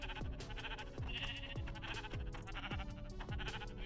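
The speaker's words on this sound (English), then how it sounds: "God damn it, sheep." Sheep in the Minecraft video game bleat over and over, a string of about half a dozen nasal, wavering calls at an even pace, close and clear with no talk.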